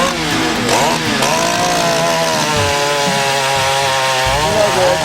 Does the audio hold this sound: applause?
no